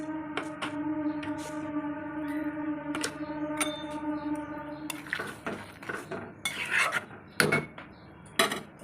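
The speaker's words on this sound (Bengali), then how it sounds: "এবার আমি এটা একটু ঢাকা দিয়ে দেবো।" Metal clatter of a lid settling onto a curry pot of fish and potato-pointed gourd stew, several sharp clinks and rattles against the rim in a quiet kitchen, with a low steady hum underneath.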